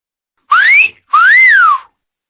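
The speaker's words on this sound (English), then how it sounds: "Whistle." A person whistles two loud, clear notes: a short upward-sliding whistle, a brief pause, then a longer tone that rises and falls back, like a wolf whistle.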